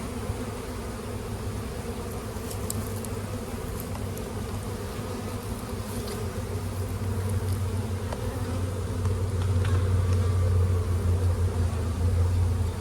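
Honeybees buzz around an open hive frame during a hands-on beekeeping session in spring weather, a steady droning hum that swells slightly louder near the end, with occasional nearer passes and no talking.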